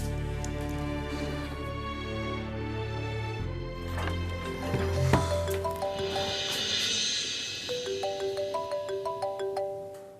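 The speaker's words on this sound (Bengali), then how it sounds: "এত রাতে কি তোমাকে ফোন করে রিঙ্কুর মা" A melodic electronic phone ringtone plays continuously with stepping tones and sustained notes, loud and close, no speech.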